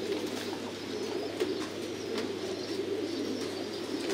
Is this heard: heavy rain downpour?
no